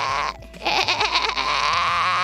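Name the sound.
voice imitating a goat bleat to practise fry screams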